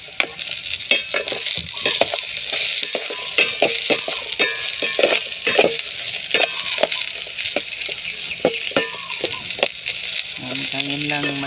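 Onion frying in a pan over a charcoal fire for a Bisaya-style chicken with papaya dish, a steady crackling sizzle with scattered stirring clicks and utensil knocks throughout, fairly close.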